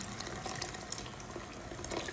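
Boiling water pours into a pot of kibbeh soup in a home kitchen, making a steady splashing rush that stays fairly quiet and continuous throughout.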